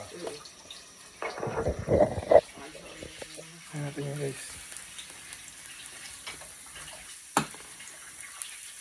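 Water is poured and transferred between containers at a camping resort cookout, a short splashing burst near the start followed by lighter trickles, with people talking nearby.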